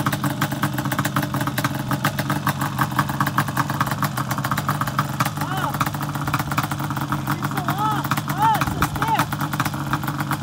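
A Yamaha Banshee ATV engine runs at an off-highway vehicle park, its steady two-stroke idle rumbling close by with small throttle blips while people talk over it.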